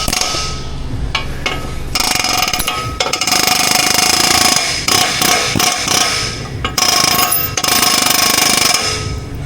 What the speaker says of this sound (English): let's hit it one more time with the hammer impact business and see if it pops loose like the other side there